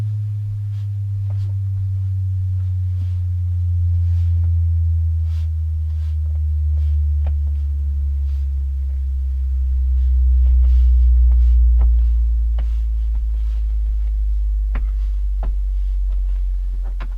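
A deep, smooth low test tone glides slowly downward in pitch through a Tesla Model 3 Standard Range Plus upgraded audio system, steady and sustained, with faint clicks scattered over it.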